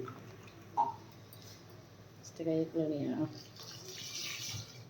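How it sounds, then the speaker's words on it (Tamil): Water poured from a glass into a pot for mutton leg soup, a brief splashing pour in the middle of a quiet kitchen scene, with soft background noise and faint bubbling. "ரெண்டு கிளாஸ் தண்ணி ஊற்றணும்"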